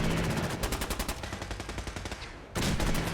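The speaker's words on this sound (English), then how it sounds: "There's a lot of gunfire going on." Rapid bursts of gunfire in Fallout 4, loud and continuous, with automatic weapons rattling in quick rhythmic volleys and a brief dip before resuming.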